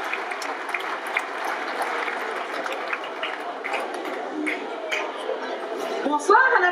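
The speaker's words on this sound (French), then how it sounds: "On peut les applaudir." Studio audience applause for two brothers arriving as guests on a French-language television show, a steady dense patter of clapping running throughout, with talk over it.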